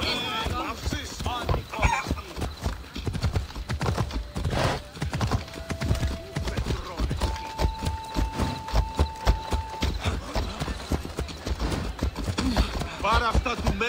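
A horse gallops in the video game Assassin's Creed Odyssey, hooves pounding in a fast repeating rhythm under game music, with a whinny near the end and voices talking over it.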